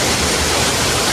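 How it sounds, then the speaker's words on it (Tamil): Loud, steady roar of a waterfall at Gudalur, a hidden falls in the hills, heard up close as broadband rushing water with no break and no talk. "ஃபால்ஸு கொஞ்சம் முன்னாடி வந்துட்டேன்"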